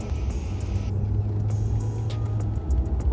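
Maserati Quattroporte heard from inside while driving on a rough road, a low steady engine rumble with road noise and a few light rattles.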